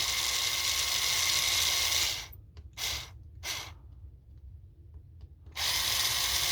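Screws being backed out of the motor mount on the underside of an FTX Outback 2 RC car, a close whirring driver buzz that stops abruptly, then short bursts and pauses before the whir resumes.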